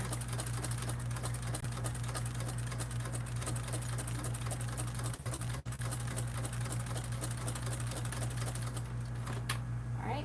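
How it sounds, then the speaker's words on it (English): A sewing machine stitches up the side of a Swoon Maisie bag, a steady rapid mechanical whir with a low motor hum running almost continuously, briefly pausing midway as the needle stays down to pivot. "lifting up the needle or the presser foot with the needle down to pivot and going up the side here."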